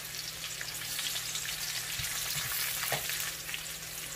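Garlic, red onions and ginger sauté in a hot pan, a dense continuous frying hiss up close with a few soft knocks of stirring near the middle, no talking.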